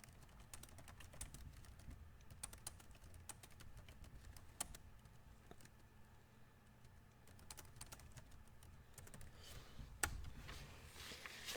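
Typing on a computer keyboard: a quiet, steady run of rapid key clicks going on for several seconds, with a couple of slightly louder keystrokes near the end.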